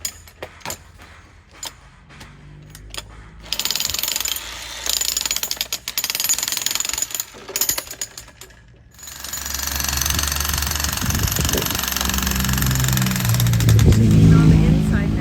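Jackhammer breaking through a three-foot-thick stone wall at a construction site in Costa Rica: irregular bursts of harsh chipping and rattling, then a steady loud continuous hammering that grows stronger toward the end.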